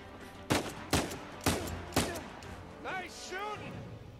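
Gunfire in the video game Uncharted 4, four distinct sharp bursts about half a second apart, followed by faint warbling tones, fairly quiet overall.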